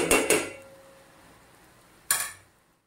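Metal utensils clanking against a pan while serving soaked chickpea curry, two quick close clinks followed by a pause and a third sharp clatter.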